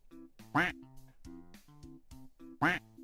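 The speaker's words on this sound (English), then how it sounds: "Put a duck in the pond." A duck quack sound effect plays during a stream: two loud, sharp quacks about two seconds apart, standing out over a softer tonal, humming background.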